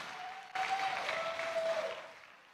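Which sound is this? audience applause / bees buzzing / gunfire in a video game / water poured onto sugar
audience applause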